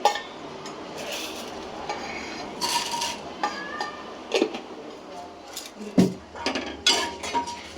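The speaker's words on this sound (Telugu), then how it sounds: "ముందైతే పచ్చెనపప్పుని మినపప్పుని వేపించేసుకుని ఒక గిన్నెలోకి అయితే తీసుకుని పెట్టేసుకుంటాను" Chana dal and urad dal roast in an oiled pan, with intermittent clinks and scrapes of a spoon stirring against the metal under a soft background sizzle.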